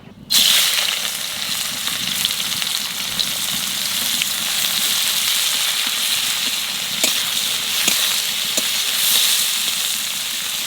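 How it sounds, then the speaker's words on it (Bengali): Shrimp frying in hot oil with onion and green chili, a steady, close, bright sizzle that starts abruptly and hisses on evenly throughout, with occasional small pops and spatters. "আমি এখন চিংড়ি মাছটা ভেজে নেবো এই চিংড়ি মাছ ভাজতে গেলে"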